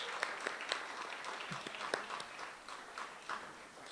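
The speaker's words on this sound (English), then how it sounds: "Give yourselves a big clap, please" A crowd at a Lyttelton community gathering against port privatisation claps, with scattered sharp hand claps over a soft, steady patter of applause that stays fairly faint throughout.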